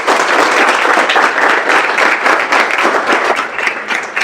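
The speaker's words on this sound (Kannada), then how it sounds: "ಇವರಿಗೆ ಮೊದಲನೇದಾಗಿ ಜೋರಾಗಿ ಚಪ್ಪಾಳೆ ಬರಲಿ" Loud, dense applause from a crowd of students at a motivational class, a continuous roar of clapping that holds steady and close, with no talk over it.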